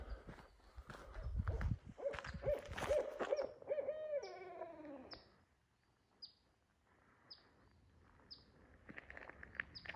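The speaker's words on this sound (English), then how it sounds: "I found the owl." An owl hoots repeatedly in short, evenly spaced calls outdoors, with footsteps and a brief voice early on before the hoots stand alone in quiet surroundings.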